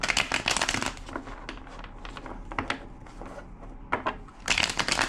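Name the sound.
shuffling a deck of cards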